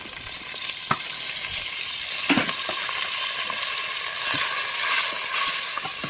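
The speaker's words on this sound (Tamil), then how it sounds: "நறுக்கி வச்ச வெங்காயத்தை வந்து ஆட் பண்ணிப்போம்" Chopped onions frying in hot oil in a clay pot, a continuous hiss, fairly loud and close, with occasional spoon scrapes and taps as they are stirred; no one speaks.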